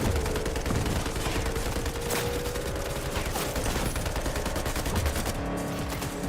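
Sustained automatic gunfire from the video game Cyberpunk 2077, a dense, loud, continuous rattle of machine guns firing steadily for several seconds with no pauses.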